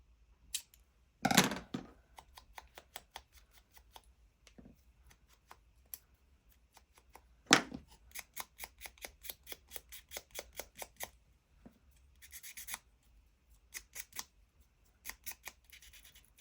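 Scissors cutting out paper for a craft project, a long run of crisp, rhythmic snips with a few louder rustling bursts from handling the paper, close and clear with no talking.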